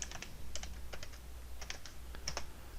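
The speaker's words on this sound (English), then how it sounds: "I'm going to type in grip again" Short bursts of clicking keystrokes on a computer keyboard while a word is typed into 3D modeling software, close and crisp over a low steady hum, with brief gaps between clusters.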